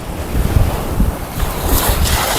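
Waves break and wind gusts at Kite Beach in Dubai, a loud, close, continuous rush of surf with heavy wind noise buffeting the microphone, no voices.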